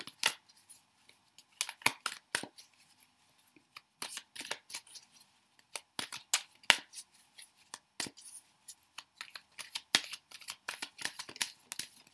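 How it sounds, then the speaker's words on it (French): Tarot cards from a Golden Universal Tarot deck being shuffled by hand, giving a steady run of crisp papery riffles and soft slaps close by, with short pauses between bursts and no talking. "Donc vous mélangez les cartes."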